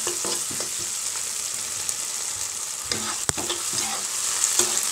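Okra fries in oil in a pan while a spoon stirs it, giving a continuous close sizzle broken by repeated scraping strokes and one sharp clack near the middle.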